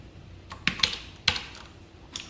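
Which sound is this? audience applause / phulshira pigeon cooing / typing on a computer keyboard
typing on a computer keyboard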